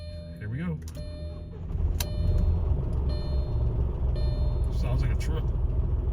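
An Audi B5 S4 engine cranks and catches, then settles into a loud, uneven rumbling idle with a few sharp clanks over it.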